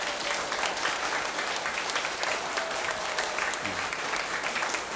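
Concert audience at a Liberation Day history concert at the National Museum of Korean Contemporary History applauding the artistic director, steady dense clapping that carries evenly throughout.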